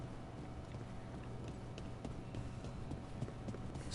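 Horse hooves clip-clop in a video game, a quiet, steady run of light hoof beats over a low background hum.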